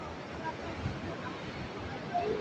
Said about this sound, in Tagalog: naglalaki ang alon yan dito sa lugar namin